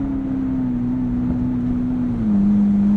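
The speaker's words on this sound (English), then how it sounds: "the wonderful, glorious sound of that twin-turbo V8" Deep, steady engine drone from the twin-turbo V8 of a Ferrari SF90 Spider hybrid, running close and loud for several seconds and stepping down slightly in pitch near the end, with no talk over it.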